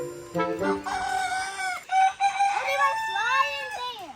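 Chickens in a yard in the Philippines cluck softly before a rooster lets out a clear, drawn-out crow, followed by more fluttering calls, moderately close and without talk.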